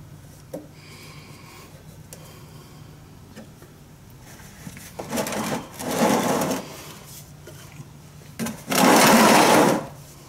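A hand pump forces gear oil into a boat's sterndrive on a Bayliner Bowrider 175, heard as several bursts of mechanical pumping, the last and loudest at the end, between quieter stretches.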